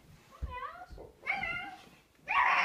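Several drawn-out, rising and falling meows from a cat, fairly close, with some background noise between them.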